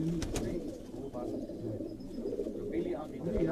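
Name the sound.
pigeons cooing on a Quetta rooftop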